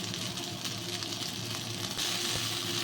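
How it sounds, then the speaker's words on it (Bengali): Okra frying in a pan, a steady sizzle that continues evenly throughout and is close and moderately loud, with no talking. "আগে আমি ঢেঁড়সগুলো ভেজে নিই"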